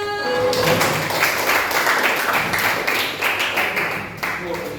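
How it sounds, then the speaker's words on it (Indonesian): A classroom group claps together in a dense, steady burst lasting several seconds, fairly loud and close, with a brief tonal voice at the start and end. "Oke, tepuk tangan buat semuanya."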